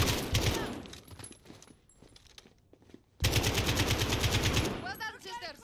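Rapid automatic gunfire in Call of Duty: Modern Warfare (2019) during a combat ambush, loud and close, dropping to quieter scattered shots before a second heavy burst. Voices can be heard under the firing.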